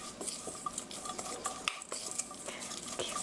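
A hash brown mixture seasoned with ground black pepper being stirred in a bowl, soft continuous scraping and light clinks of a utensil, fairly quiet with no voices.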